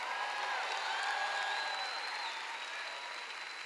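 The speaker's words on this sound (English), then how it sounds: "Give the Lord a clap and a shout like we're turning the tide." Church congregation at a healing conference service clapping and shouting together, a dense, sustained wash of applause with cheers and whoops, steady and loud throughout.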